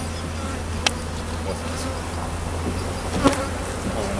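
Angry bees swarming during a bee removal in Godley, Texas, a dense continuous buzzing drone close by, with a couple of sharp knocks standing out above it.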